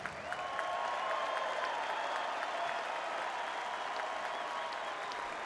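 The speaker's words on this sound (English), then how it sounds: "Once again, please show them our appreciation with a huge round of applause." Large arena crowd at a basketball halftime tribute giving a sustained, loud round of applause, dense clapping and crowd noise steady throughout, with faint tonal sounds beneath.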